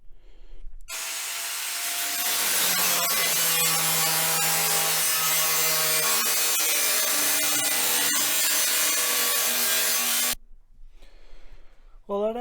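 An angle grinder cuts metal for a fan mount in a TDI XJ cooling upgrade. It makes a loud, close, sustained high-pitched whine and grinding roar for about ten seconds, its pitch shifting as it bites, and then stops abruptly.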